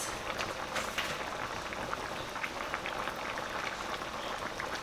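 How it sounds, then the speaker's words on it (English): Kitchen tap water runs in a steady, close hiss and splash during a quick rinse while cooking king oyster mushrooms with scallops and mussels. It is continuous and even throughout, with no talk. "And a little quick rinse."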